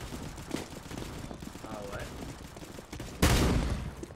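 Shotgun gunfire in Counter-Strike: Global Offensive: one loud, close blast near the end follows scattered quieter shots and game noise, with voices talking throughout.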